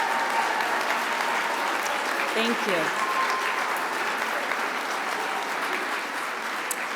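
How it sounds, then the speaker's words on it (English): Audience applause for honored women at a business awards event: loud, sustained clapping from a large crowd that holds steady for several seconds, with a brief spoken word heard over it. "let's once again give these amazing women a round of applause"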